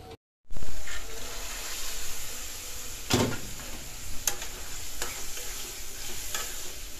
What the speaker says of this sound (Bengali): এটা বুট বাগার দিতেছে।